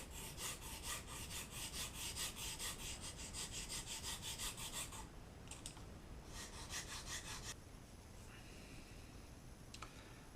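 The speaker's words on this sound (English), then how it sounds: "So I'll take my sandpaper here and I'll cut, start to grind down to that shape" Sandpaper rubs back and forth on a wooden pencil-shaped fishing lure, shaping it with quick, even strokes for several seconds, then slower, more scattered scrapes.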